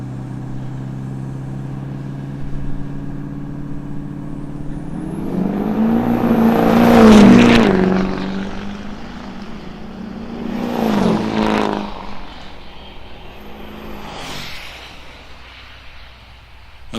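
Diesel pickup trucks, including a Duramax, drag racing at a truck fest: a loud engine roar builds as a truck launches and passes close, then another surge follows more faintly, over a steady outdoor rumble.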